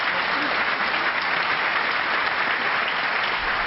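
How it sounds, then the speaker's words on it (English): Sustained applause from the knowledgeable Wembley crowd at the 2009 Masters snooker quarter final, a steady dense wash of clapping throughout with no break. "The applause, this knowledgeable Wembley crowd telling you that that was frame ball"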